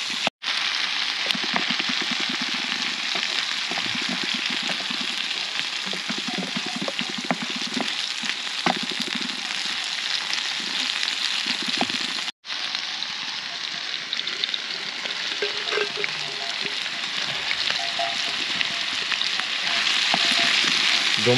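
Food frying in a pan for a home-cooked dish, a dense, steady sizzle heard up close for about twenty seconds, with a person talking intermittently over it.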